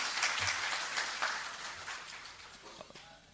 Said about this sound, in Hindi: मैं चाहूंगा पहले एक जोरदार तालियों के साथ इनका स्वागत किया जाए।